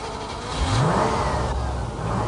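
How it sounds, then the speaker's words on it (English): A Range Rover's V8 engine revs up in a single loud rising sweep, then holds at a steady, near, fairly loud drone. "this is the only one here to have a V8 engine"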